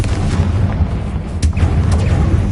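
Confringo blasting spell explosions in Hogwarts Legacy, a dense run of deep booming blasts with sharp bursts, loud and close over a continuous rumbling low-end bed, no voices.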